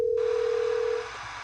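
Steady telephone dial tone on a phone line during a sports call-in scoreboard show, a single continuous pure tone holding loudly for about a second before cutting off to faint line hiss.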